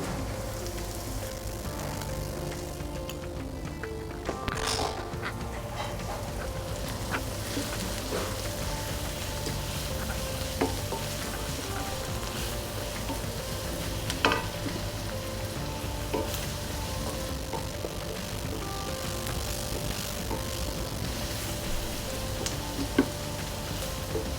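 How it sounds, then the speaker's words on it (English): Chopped onions salted and frying in a pan for butter chicken, a steady close sizzle with fine crackle running throughout and a few brief louder spatters, no voices. "Just going to let the onions caramelize a little."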